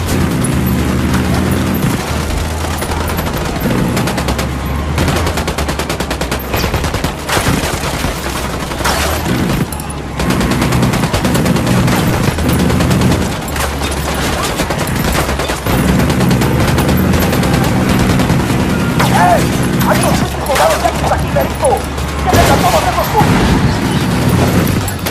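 Gunfire and battle noise in a Ghost Recon Wildlands cutscene, dense and loud throughout, with bursts of shots layered over a heavy music score and occasional voices.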